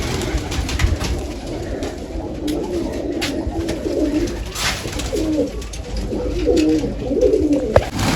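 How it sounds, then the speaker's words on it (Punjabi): Pigeons coo steadily in low, throaty bursts while feeding on grain and water, several birds overlapping close by with a soft rustle of movement underneath. "ਸਾਰੇ ਕਬੂਤਰ ਦਾਣਾ ਪਾਣੀ ਚੁਗੀ ਜਾਂਦੇ ਆ"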